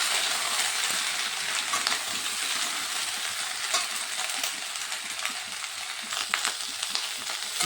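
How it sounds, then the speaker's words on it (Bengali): Whole garlic cloves frying in oil, a dense continuous sizzle with stirring scrapes and occasional sharp pops, close and fairly loud, no talking. "গোটা রসুন দিয়ে দেবো। এগুলো দিয়ে একটু ভেজে নেব"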